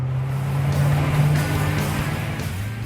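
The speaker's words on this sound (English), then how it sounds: "When you fire up the engine, of course, the cabin fills with engine sound" A Koenigsegg 5-litre supercharged V8 engine running, heard from inside the cabin as a deep steady bass drone with a slight rise and fall in revs, loud and enveloping, no speech.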